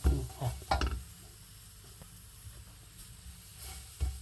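Mackerel dry-roasting in a pan for Thai chili paste, a soft continuous sizzle with a few stirring scrapes and taps near the start and end, close and fairly quiet with no talking.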